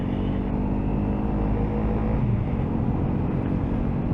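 A 2022 Honda CRF300L off-road motorcycle ridden up a lane, a steady loud engine drone mixed with rumbling wind noise, continuous with no talking.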